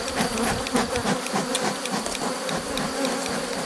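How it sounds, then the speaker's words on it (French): Honeybees swarm and buzz loudly at an opened beehive with drone-laying brood, a dense continuous hum close by with individual bees zipping past throughout. "Qu'est-ce que c'est que ce paquet d'abeilles, là?"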